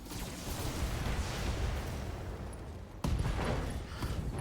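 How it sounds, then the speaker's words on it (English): An ammo explosion in the mech combat video game BattleTech, a sustained rumbling burst of blasts and crackling fire that drops briefly and then hits again with a sharp, louder impact, with no voices. "Ooh, beautiful lucky ammo explosion. Heavy damage."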